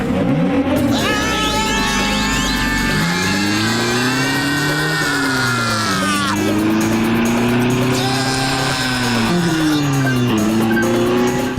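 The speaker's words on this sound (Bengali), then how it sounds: "জিপের স্পিড খুব জোরে বেড়ে যাক।" Cartoon jeep engine revs and speeds up, rising and falling whines with repeated squealing swoops, loud and close, with music and effects layered over it.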